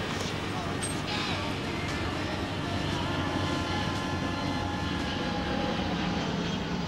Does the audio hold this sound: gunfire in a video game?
no